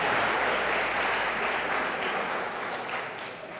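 A church congregation applauds in a dense, steady wash of clapping that holds strong and tapers slightly toward the end, with no voices over it.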